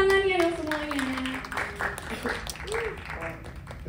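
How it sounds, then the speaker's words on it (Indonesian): A seminar audience gives a modest round of applause to welcome the moderator, with scattered clapping that follows a speaking voice at the start. "Tepuk tangannya dong semuanya."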